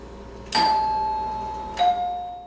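A doorbell in a student residence on a university campus chimes twice, a clear ding followed by a lower dong about a second later, each tone ringing out and fading slowly in an otherwise quiet room.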